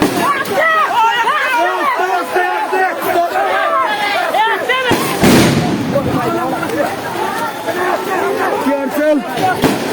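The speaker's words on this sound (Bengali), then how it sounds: "বোম সবগুলো নিক্ষেপ করছে।" Bombs thrown by police at a student protest in Sylhet burst amid a loud crowd, with a sharp blast near the middle over constant shouting and babble.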